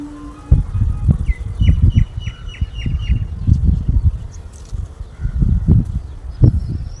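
A farm turkey gives a quick series of repeated, evenly spaced call notes over a loud, low rumbling background, then falls back to scattered softer calls and clucks.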